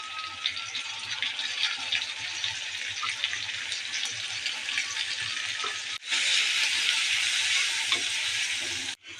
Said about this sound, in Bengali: এদিকে পেঁয়াজ মরিচ একটু ভেজে নিচ্ছি।